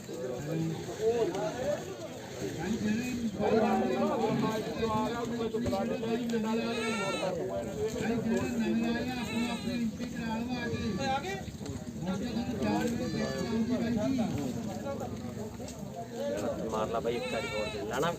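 Goats bleat repeatedly at a livestock market, some close and some farther off, amid steady chatter of people talking and occasional hoof clatter.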